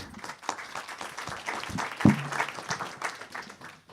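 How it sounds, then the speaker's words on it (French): An audience applauds at the end of a conference talk, a continuous patter of many hands at moderate loudness, with a brief louder knock partway through and no speech on top. "Vous applaudissez, je pense, c'est très sincère."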